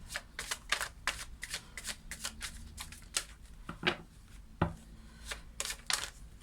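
Tarot cards being shuffled by hand, a quick irregular run of crisp riffling flutters and soft slaps, close and fairly quiet with no voice over it.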